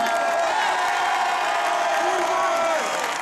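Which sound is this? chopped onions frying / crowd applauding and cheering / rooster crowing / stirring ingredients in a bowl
crowd applauding and cheering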